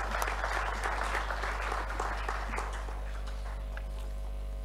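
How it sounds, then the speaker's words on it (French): Audience at an ophthalmology congress in Kinshasa clapping steadily, a broad wash of applause from a large hall that gradually thins and fades toward the end. "On peut les acclamer."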